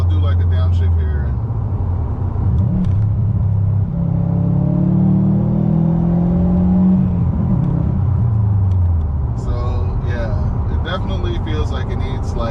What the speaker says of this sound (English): So I'll do like a downshift here.